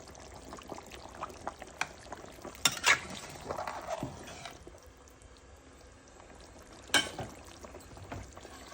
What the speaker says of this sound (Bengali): আমি মাছগুলো দিয়ে দিলাম।